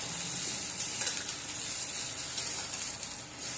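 Mashed cauliflower sizzles steadily in a pan as it is stirred and fried, giving a close, continuous hiss with faint scraping and no talk.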